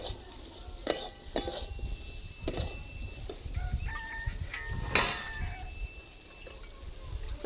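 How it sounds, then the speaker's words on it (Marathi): Curry being tempered on a wood-fired stove with leftover chapati oil, a low steady sizzle broken by several sharp clinks and scrapes of a utensil against the pot, with faint background bird chirps and no talk. "चपात्याचं राहिलेलं तेल त्याच्याच कालवणाची फोडणी दिली"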